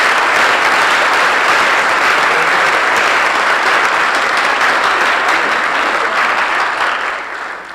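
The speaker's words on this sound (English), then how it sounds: "How about another huge round of applause for our choir portion of that" Loud, dense applause from a concert audience at a high school spring band and vocal concert, a continuous wash of many clapping hands that stays strong throughout and eases slightly in the final second.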